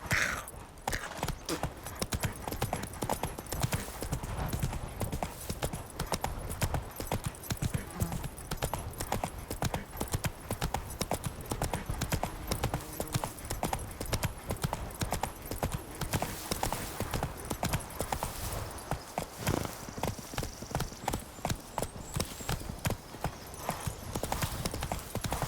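A horse gallops in The Witcher 3 video game, rapid rhythmic hoofbeats pounding steadily and close throughout, with a faint whinny-like sound and some background game ambience.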